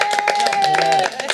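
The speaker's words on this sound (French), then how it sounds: "on peut l'applaudir" Studio audience applause for a TV show guest, a brief burst of clapping blended with background music and chatter, fairly loud and continuous.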